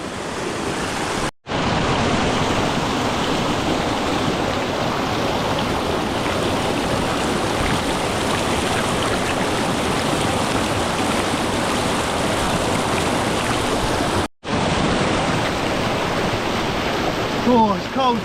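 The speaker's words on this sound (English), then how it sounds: "the water's flowing right into it" Steady, loud rush of water pouring into a waterfall plunge pool on a cold morning in the Lake District, a dense continuous roar broken by two brief dropouts.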